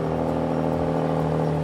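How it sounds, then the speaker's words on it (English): Airlift 3P air suspension on a 2016 Nissan Maxima, its compressor producing a steady, loud, continuous motor whir with a strong low hum while the car raises to ride height, with no voices. "once it gets power, it rises to my set stock height, my ride height"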